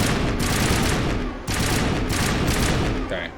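Rapid shotgun blasts in the video game Mass Effect, loud and close, firing in quick succession with a brief gap midway, fast and punchy with heavy recoil.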